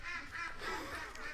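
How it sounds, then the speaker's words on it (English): A crowd of farm ducks quacking eagerly in the morning, a dense overlapping chatter of calls heard from nearby, fairly quiet and continuous. "I hear all the ducks waiting for me. They're all desperate to get out."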